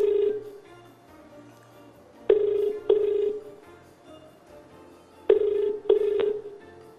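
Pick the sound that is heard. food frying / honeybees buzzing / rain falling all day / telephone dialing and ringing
telephone dialing and ringing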